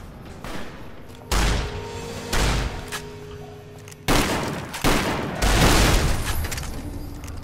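Heavy shotgun blasts in the video game Fallout New Vegas, several loud booming shots spaced a second or so apart, each with a short decaying tail.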